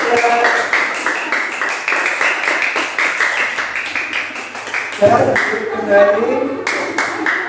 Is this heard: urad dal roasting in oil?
no